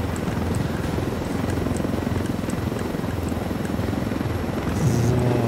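Helicopter in Ghost Recon Wildlands, a steady rotor drone and chop held close and loud throughout with game ambience, a brief extra effect near the end.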